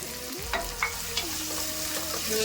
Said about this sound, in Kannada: ಒಂಚೂರು ಫ್ರೈ ಮಾಡ್ಕೊಂಡ್ಬಿಡೋಣ